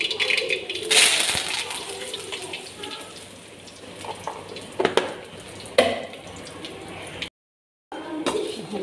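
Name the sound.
spices crackling while tempering in hot oil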